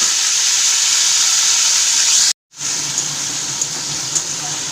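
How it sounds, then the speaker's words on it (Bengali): Onion paste sizzles in hot oil with a loud, steady, close frying hiss, broken by a brief cut of silence midway before the sizzle resumes. "তেল তেল গরম হয়ে গেছে একসঙ্গে তেলের উপর দিয়ে দিলাম পেঁয়াজ বাটাটা"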